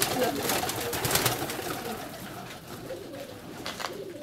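Pigeons coo repeatedly inside a dovecote, several birds close by with soft throaty calls over rustling movement, plus a brief faint voice.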